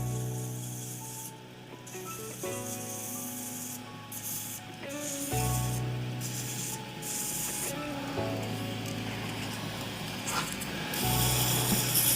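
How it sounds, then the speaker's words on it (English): Sandpaper rubbing into the grooves of a burl and resin shaving brush handle, a steady rasping scrub that runs in repeated strokes with brief pauses throughout. "Make sure we give them a sand as well."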